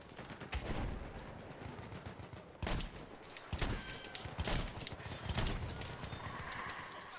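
Model 10 pump-action shotgun blasts in Battlefield 1, several loud shots spaced irregularly with cycling clacks between them amid busy battlefield noise and distant gunfire.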